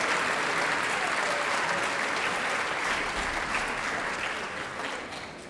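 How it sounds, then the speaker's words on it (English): Steady, dense applause from a large audience at a band reunion gathering, sustained throughout and tapering slightly at the end, with no talking. "That deserves some applause."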